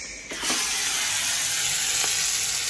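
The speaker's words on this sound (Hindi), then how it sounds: "अब लग रहा है हमारा तड़का।" Cumin and green chillies sizzling in hot oil for a tadka, a loud, steady, close-up hiss of frying that flares as the ingredients drop in, with a faint stir or clink along the way.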